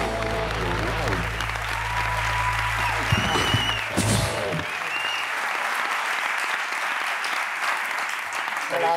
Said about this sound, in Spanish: Quiero pedir un aplauso para Albert Pla en La Resistencia.